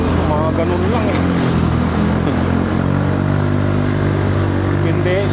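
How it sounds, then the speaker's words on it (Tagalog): Big bike motorcycle exhaust roaring loud and steady at a rainy market, a continuous engine drone with people talking over it. "Ganda talaga ng tunog ng Big Bike guys."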